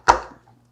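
A kitchen knife comes down once through garlic cloves on a cutting board: a single sharp, close chop that fades quickly, followed by a faint light tap.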